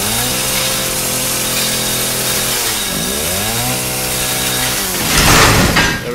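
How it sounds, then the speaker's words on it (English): A chainsaw cuts open a door in the Resident Evil 7 video game, its engine droning loud and close, dipping and rising in pitch as it bites in, then roaring harder near the end. "here comes the chainsaw."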